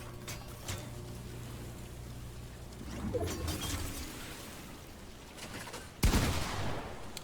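A sharp gunshot in Fortnite during a solo arena match rings out near the end, standing out over quieter background game noise and faint earlier crackles.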